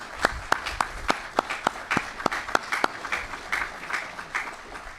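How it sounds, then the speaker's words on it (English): Scattered audience applause at a grand opening ceremony for a new Pennsylvania veterans' facility, honoring the building workers; individual claps ring out in an uneven rhythm from a modest crowd, moderately quiet in a room. "a round of applause for them"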